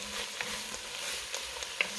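Turkey a la king ingredients saute in a pan with a soft, steady sizzle. Faint scattered pops and ticks sit over the quiet hiss, close by, with no voices.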